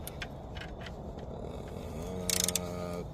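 A 12 mm socket ratchet clicks briefly, a quick burst of rapid pawl ticks near the end, against a faint mechanical hum while working on the alternator belt of a Toyota 1.8L engine.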